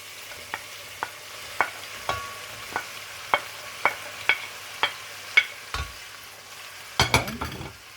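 A utensil scrapes and knocks through turkey pieces, sliced carrots and onion frying in a pan, a dozen distinct clacks at a loose, irregular rhythm over a faint low sizzle, close by, ending in a brief clatter.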